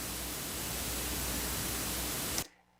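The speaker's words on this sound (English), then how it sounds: "So let's turn off oscillator A and then let's turn on the noise." A synthesizer noise oscillator set to an AC hum mode produces a steady, even hiss of static-like noise that holds for over two seconds, then cuts off abruptly into near silence.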